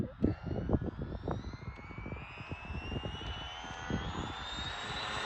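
An Arrma Big Rock RC truck on a 3S LiPo battery accelerates with a high electric motor whine that rises steadily in pitch, heard at a moderate distance over faint outdoor rumble.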